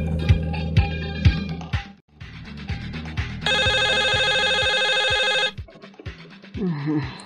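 An electronic phone ringtone plays a sustained trilling ring for a couple of seconds amid a busy, rhythmic background of music-like sound.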